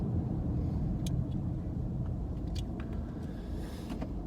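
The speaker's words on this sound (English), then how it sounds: "you gotta love city driving" Car driving through city traffic, a steady low road rumble and engine drone continuing throughout with a few faint higher clicks and noises mixed in, no talking.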